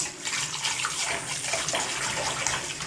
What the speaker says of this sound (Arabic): كده هنضيف عليهم شويه ميه مش كتار